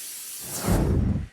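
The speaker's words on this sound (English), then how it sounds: "I'm going to go ahead and spray some Pam all into my pan." A short hissing burst of cooking spray into a 9 by 13 baking pan bursts out close by and fades after about a second.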